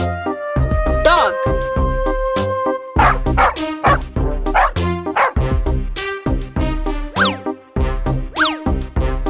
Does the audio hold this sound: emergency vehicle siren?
no